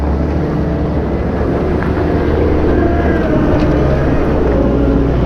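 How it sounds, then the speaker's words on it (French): A tractor pulling a straw spreader rumbles nearby on a farm, a steady low engine drone with wind buffeting the microphone, continuous and fairly loud with no voices. "il y a encore un autre tracteur qui arrive avec la pailleuse cette fois-ci"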